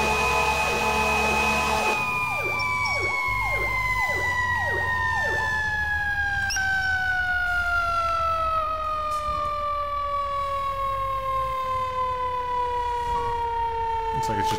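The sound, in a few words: fire truck siren in the video game EmergeNYC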